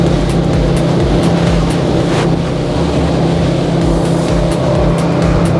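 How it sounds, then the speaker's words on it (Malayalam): Speedboat ride on the water near Veli Beach, Thiruvananthapuram, with a steady, loud engine drone and rushing wind buffeting the microphone throughout, no voices. "അപ്പോൾ സ്പീഡ് ബോട്ട് റൈഡാണ്."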